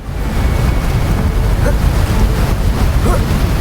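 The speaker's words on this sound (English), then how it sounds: "Or the sounds of the ocean." Ocean waves wash steadily in the Hogwarts Legacy video game ambience, a dense broadband surf rumble with gusty wind, fairly loud and continuous.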